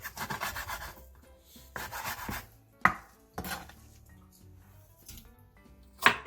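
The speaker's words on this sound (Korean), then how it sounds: "토란대 한 줌을 3cm 정도 길이로 잘라주세요." Taro stems are sliced into 3 cm lengths on a cutting board, with clustered rubbing knife strokes and a few sharp isolated chops, heard up close and without any voices.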